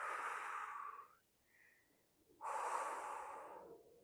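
Slow, close breaths while lying relaxed in a happy baby yoga pose: a long airy exhale, a quiet pause with a faint sniff, then another long breath.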